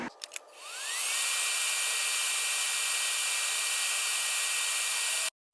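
A welder makes a full pass around stainless Schedule 10 tubing for a Nissan 240SX turbo manifold. After a few brief clicks the arc settles into a steady, loud, close hiss that holds unbroken, then stops abruptly near the end.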